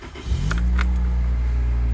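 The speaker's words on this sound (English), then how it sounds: "we're gonna start the car" A car engine cranks briefly and catches, then settles into a steady, loud low idle close by.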